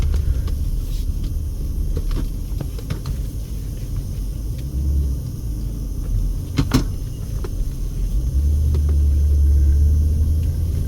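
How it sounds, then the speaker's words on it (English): Car interior rumble while driving and turning around, a steady low road drone with faint clicks and creaks, a short thump midway, and the engine note rising slightly near the end; nobody speaks. "I'm going to make a U-turn and go back here because I want to show you guys this."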